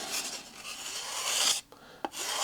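Steady rasping of a razor plane shaving the corners off wood on an electric RC plane build, close up, with a brief pause and a small knock near the end.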